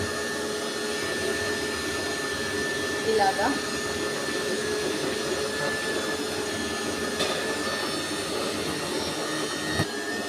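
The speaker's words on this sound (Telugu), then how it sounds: "ఇప్పుడు మిక్సీ అయితే పట్టేసుకున్నాం చూడండి." Kitchen mixer grinder running with its lid off as it grinds soaked rice batter ingredients, a loud, continuous motor whine and rumble with a brief spoken word over it.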